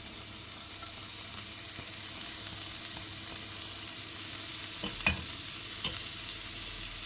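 Onions fry in a little oil, a faint, even hiss of sizzling with a few soft clicks and taps of a utensil, steady and unaccompanied by speech.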